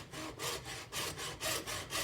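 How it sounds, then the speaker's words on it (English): A hacksaw cuts through plastic for an RC Rovan Baja 5b roll cage adapter in close, rhythmic back-and-forth strokes, about four to five even rasping pulses with no talking. "the reason I like using a hacksaw rather than a Dremel"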